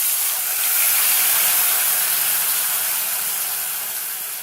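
A ground spice paste of ginger, coriander, garlic, onion and tomato sizzles in a hot pan, giving a steady, loud hiss that holds for several seconds and fades slightly at the end, with no talking.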